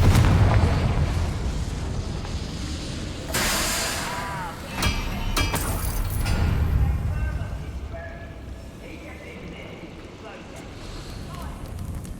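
A Confringo fire spell bursts in Hogwarts Legacy, a loud explosive boom breaking through dense game noise and music, followed by crackling debris, with more blasts later; a voice talks over it.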